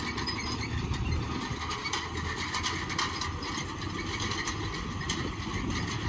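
Tractor engine running under strain while sowing soybeans in a muddy field, a steady loud low rumble holding evenly throughout.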